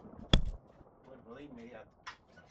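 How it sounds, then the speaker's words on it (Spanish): One sharp knock on a door comes early and is loud and close, followed by quiet talking. "están tocando la puerta"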